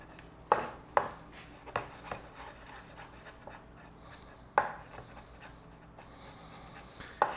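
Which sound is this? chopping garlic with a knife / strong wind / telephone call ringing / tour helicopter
chopping garlic with a knife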